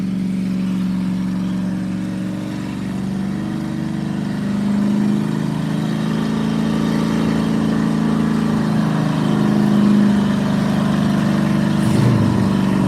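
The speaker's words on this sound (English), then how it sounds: "that Cuda sounded amazing firing up" A Plymouth Cuda muscle car fires up and revs at a hot rod burnout event, a loud, close, rumbling low engine note swelling and settling through several throttle blips, with no talk over it.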